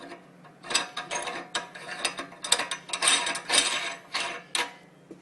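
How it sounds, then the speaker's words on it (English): A metal locking ring being screwed onto a meat grinder, giving a close run of ratcheting, grinding clicks and scrapes in irregular bursts with no talking. "Finally, put on your locking ring."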